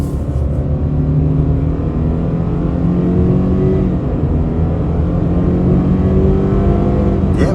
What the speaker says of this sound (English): we could try out a real world turning radius and one more acceleration run on the gas